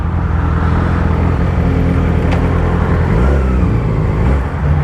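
A Chevrolet Camaro's engine sounds from behind a Yamaha R6 sport bike on back roads, a continuous loud road drone with engine rumble rising and falling, revving near the end.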